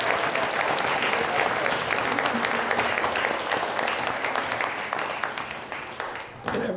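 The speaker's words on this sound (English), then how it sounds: "So, Pat, you deserve a lot of applause for helping us and being ready." An audience at a stage show gives sustained, loud applause to a helper, with thick, even clapping that fades slightly near the end.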